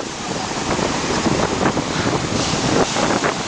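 Ocean surf washes steadily onto a Miami beach, a constant broad roar. Heavy wind buffets the microphone throughout.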